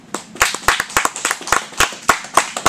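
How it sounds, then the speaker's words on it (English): A small crowd at a racing event claps for driver Kelly, with sharp, distinct hand claps in a fairly regular rhythm, near and clear, and no voices over them. "let's have a round of applause for Kelly"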